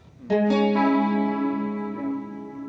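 A single sustained electric guitar chord through a chorus pedal with all knobs at noon rings out with a shimmering, wavering chorus effect, decaying slowly with no talking.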